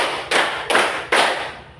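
Three sharp hand claps in a classroom counting exercise, evenly spaced and fairly loud, each leaving a short ringing room echo before the next.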